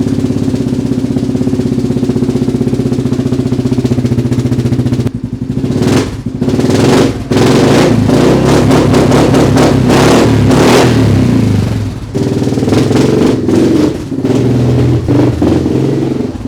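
A Yamaha Grizzly 660 ATV, freshly repaired after running lean, idles loudly up close and then revs repeatedly in bursts, the engine surging and dropping several times.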